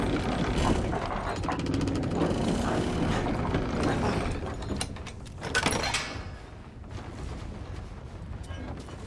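In Resident Evil Village, a crank turns to open a door with a continuous loud mechanical grinding and ratcheting that runs the whole time, swells briefly near the middle, then settles.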